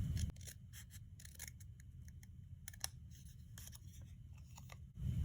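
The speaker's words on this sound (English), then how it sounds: "So I'm going to cut from that edge over to that same middle point." Scissors snip through paper card stock for a pop-up sunflower card, a string of crisp close cuts in an irregular rhythm, each with a short papery crunch, with no talking.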